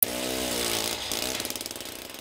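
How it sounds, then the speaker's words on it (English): A powered ice drill bores holes through Arctic sea ice, a loud buzzing motor whine that settles into a rapid pulsing chatter as the bit cuts in, close and alone. "they're drilling holes through the ice to measure its thickness"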